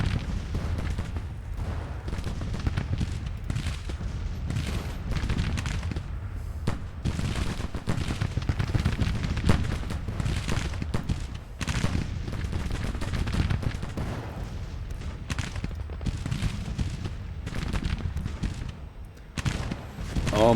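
Musket volleys crackle through a Civil War strategy game battle, with many rapid, overlapping gunshots and occasional heavier booms rolling on continuously at close range, dense and loud with no pauses.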